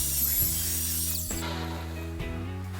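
A power saw cuts through a recycled skateboard deck with sandpaper grip tape, a loud close whining drone whose pitch drops and shifts as the blade bites, with no talking.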